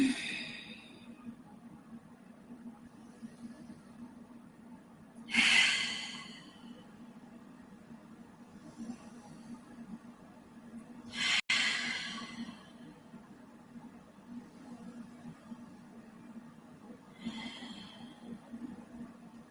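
Deep yoga breaths during a seated forward fold, several long broadband exhales spaced about six seconds apart, close and soft over a low steady room hum, with no talking.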